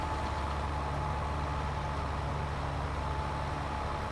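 A Case quad track tractor in Farming Simulator 22 idles with a steady, low, even engine drone that holds constant throughout.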